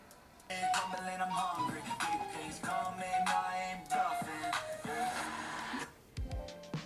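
A song from YouTube plays at lowered volume through the four speakers of a Blackview Tab 18 tablet, a tonal melody with steady rhythm for about five seconds before it cuts off.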